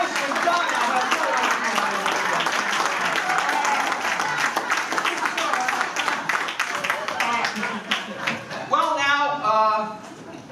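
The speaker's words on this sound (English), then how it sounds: "Give Scott a big round of applause." An audience applauds a magician at a magic competition, a dense burst of clapping from a crowd that fades near the end as a voice begins talking.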